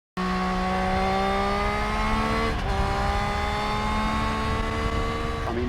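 A 2020 Triumph Street Triple RS motorcycle's triple-cylinder engine with a new end can and silencer runs loud and close, a steady crisp exhaust note holding pitch, briefly dipping midway and rising again near the end.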